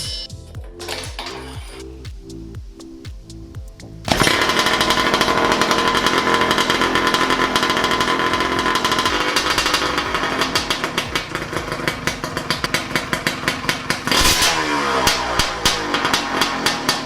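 A Blaster 200cc two-stroke drag scooter engine bursts from a choppy idle into a loud, raspy, high-revving howl that holds and surges, then breaks into rapid popping rev pulses, very close and harsh.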